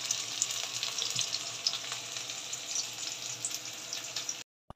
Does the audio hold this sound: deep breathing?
no